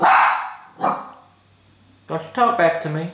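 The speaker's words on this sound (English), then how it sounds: "Sorry, that's the dog." A dog barks twice, sharp and fairly close, then a person speaks briefly over a low background hum.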